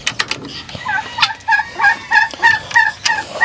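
Guinea fowl on a farm give a run of rapid, repeated harsh calls, fairly close and loud, with bursts overlapping in a busy barnyard chorus.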